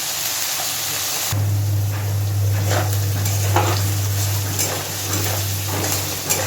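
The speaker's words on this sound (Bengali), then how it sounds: "এবার পটল আর আলুটাকে কিছুক্ষণ আগে একটু ভেজে নেব।" Pieces of potato and pointed gourd fry in a pan, with a loud continuous sizzle, occasional stirring scrapes and a low steady hum starting after the first second.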